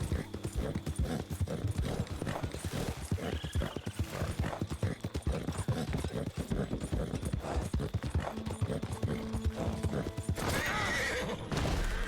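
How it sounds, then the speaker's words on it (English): A horse's hooves clatter in a quick, steady rhythm throughout, and a loud neigh breaks out near the end, in the video game Red Dead Redemption 2. "Now you can hear the horse being a little pissed off."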